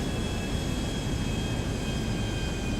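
Steady airplane engine drone from the GTA V video game, a continuous even roar with faint high whine tones holding level throughout, no talk over it.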